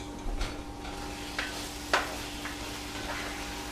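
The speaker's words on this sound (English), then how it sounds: "I've got 6 eggs, just going to beat them up" Six eggs being beaten in a bowl beside a flat-top grill, a few scattered quiet taps and clicks of a utensil against the bowl over a low steady background hiss.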